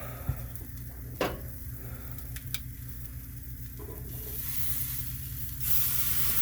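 Meat sears in a hot pan with a steady, close sizzle and hiss that continues throughout, rising slightly louder toward the end, with a couple of sharp clicks of utensils near the start.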